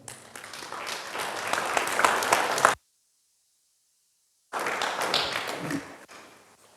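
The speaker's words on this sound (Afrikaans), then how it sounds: "kom ons gee vir hulle groot hande klap" Church congregation applauding in a worship service, dense clapping filling the space for nearly three seconds, then a gap of silence before a second burst that fades out toward the end.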